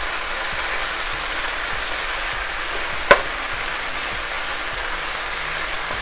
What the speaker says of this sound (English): we just need 5 more minutes to stir fry this chicken up